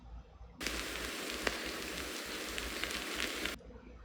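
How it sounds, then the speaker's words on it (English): A rain texture from a music-production sample pack plays as a dense, even hiss of fine droplets for about three seconds, starting and stopping abruptly over faint background noise. "And then at the bottom we have a rain texture from a Jocko pack."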